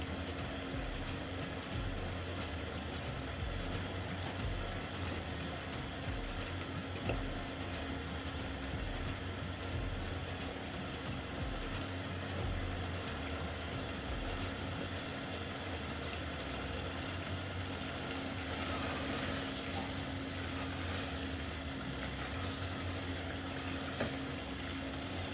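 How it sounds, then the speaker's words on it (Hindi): Masala of onion and tomato with meat bubbling steadily in oily pan, a continuous close simmering and gentle sizzle with a faint steady hum beneath, no one talking. "अभी आप देख सकते हैं कितने अच्छे तरीके से बबलिंग हो रही है"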